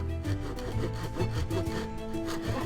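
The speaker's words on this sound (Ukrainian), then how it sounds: "Подивимося, наскільки рівно вдасться розпиляти дошку по розмітці цією пилкою." A hand saw cutting a wooden board along a marked line, with rhythmic back-and-forth rasping strokes, close and loud, repeating steadily without talk.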